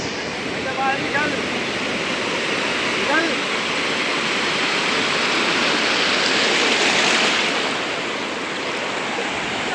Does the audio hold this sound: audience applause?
no